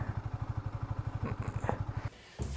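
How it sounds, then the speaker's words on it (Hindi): A KTM Duke 250 motorcycle idling right after starting, a close, even single-cylinder thump pulsing rapidly and steadily, then briefly dipping before picking back up. "चलो तो भाई बाइक स्टार्ट हो गई है, अब निकलते हैं वापसी।"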